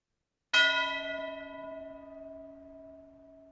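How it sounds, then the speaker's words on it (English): A single church bell strikes once in a game audio sound sample, loud and close, then its rich tone hangs and slowly fades over several seconds. "This is a meta sound that has a church bell sample in it."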